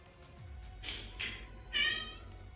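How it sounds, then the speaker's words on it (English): A pet cat named Charlie meows a few times in quick succession, soft and fairly close, with a slightly louder final meow in a quiet room. "Yes, Charlie. That's my cat."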